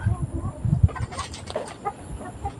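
Backyard chickens clucking inside a chicken coop, several birds making repeated close clucks and murmurs, busiest early on and then continuing more softly.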